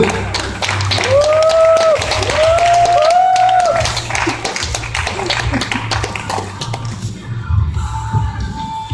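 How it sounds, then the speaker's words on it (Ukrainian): An audience claps at an award ceremony for a fitness contest's athletic pairs category. Dense, steady applause fills most of the clip over tonal music and thins out near the end. "Аплодуємо."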